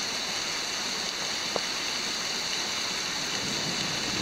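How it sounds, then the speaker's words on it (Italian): Steady, dense rain roaring continuously, a broad hiss with no voices, one brief sharp knock partway through, at the Grotta Sciason cave. "Sta piovendo di brutto."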